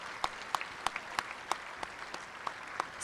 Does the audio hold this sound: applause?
yes